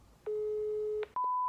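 A telephone ringback tone from a call placed to a primary school plays in a short clip: one long steady beep, then a brief gap and a higher continuous tone starting, clear and alone with no talking.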